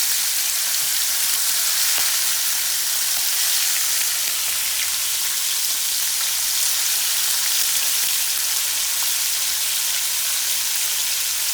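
Two slices of bacon frying in a pan, a loud, continuous hissing sizzle with fine crackling spits, steady and close for the whole stretch with no voices.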